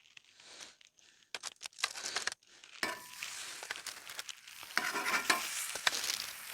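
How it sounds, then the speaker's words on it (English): Chipotle pork loin lands on an oiled griddle and fries, with a steady, fairly close sizzle and crackle building up, broken by a few scraping and shuffling sounds as the meat is placed and moved. "So I've got my oil down, so let's go ahead and get the meat on"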